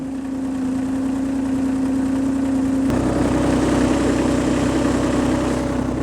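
A KIOTI tractor's diesel engine idles loud and close after a cold start in extreme cold. The rough running changes pitch partway through and then settles into a steady, even drone.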